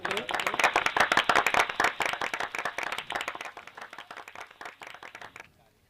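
Audience at a devotional gathering clapping in welcome, a dense, steady round of applause from many hands that holds strong and then tapers off quickly into quiet.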